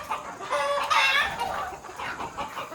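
Free-range desi village chickens clucking nearby on a farm at evening, a few short overlapping clucks and calls, outdoors with light background noise.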